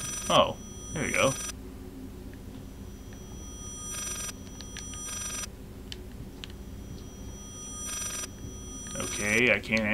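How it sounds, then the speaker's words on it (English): Telephone ringing in the horror video game Layers of Fear, heard as two separate bursts of ringing in the middle and near the end, with a voice talking briefly at the start and close. "Oh man, it's a phone. I'm supposed to answer it"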